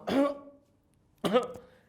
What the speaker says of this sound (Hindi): इस तरह की खांसी हो जाती है